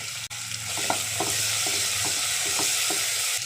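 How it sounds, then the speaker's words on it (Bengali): Masala with tomato paste and green chillies being sautéed for a Bengali potol chingri curry, a loud close sizzle with rhythmic scraping strokes of a spoon in the pan, no talking. "দিয়ে দেব 2 চামচ টমেটোর পেস্ট, দিয়ে ভালো করে কষিয়ে নেব"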